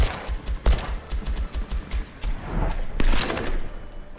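Rapid gunfire as a full magazine is emptied in the VR shooter Hard Bullet, a quick run of sharp, evenly spaced shots followed by a few louder scattered bursts, close and punchy.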